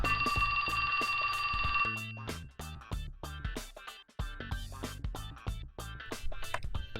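A cell phone in the video game 428: Shibuya Scramble rings with a bright, repeating electronic tone for about two seconds, then gives way to rhythmic, punchy game music.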